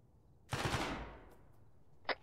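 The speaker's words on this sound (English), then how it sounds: "They're shooting back at me, though." A single heavy burst of enemy gunfire in Arma 3 cracks out loud and close, its echo rolling away over about a second and a half, then a short sharp report follows alone.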